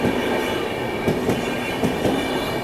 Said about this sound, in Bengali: এখান থেকে 3 নম্বর থেকে একটা থ্রু ট্রেন পাস হচ্ছে